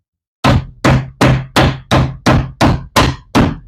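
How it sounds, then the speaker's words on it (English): Nine heavy, evenly spaced hammer blows striking wood, loud and close, each a sharp thunk with a short ring, no voices. "So I'm gonna grab my hammer"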